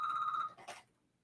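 A mobile phone rings with a steady electronic tone for about half a second, then stops, followed by a brief rustle as it is handled; close and fairly quiet, with no talking.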